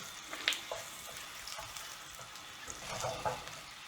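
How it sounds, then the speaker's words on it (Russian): Tomatoes, about 300 grams, simmering in a pan for a vodka pasta sauce give a soft, steady crackling sizzle with small pops, fairly faint and close, with no one speaking. "Так, помидоры у меня кипят."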